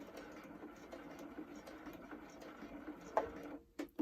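A sewing machine stitches a zip in a quiet, low mechanical hum with faint ticking, then a few louder clunks near the end as the needle is walked in.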